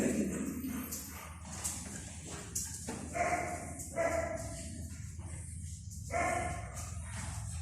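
Two large dogs barking, a few separate barks and yips at moderate distance, spaced out over a low background murmur of room noise.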